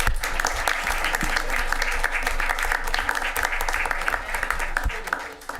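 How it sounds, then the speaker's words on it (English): People at a city council meeting clap in a dense, steady round of applause for a volunteer board, loud and sustained, tapering near the end as a voice speaks. "Round of applause"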